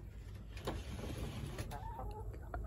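Barred Rock chickens cluck softly at a distance over a low background hum, with a few short calls scattered through the moment.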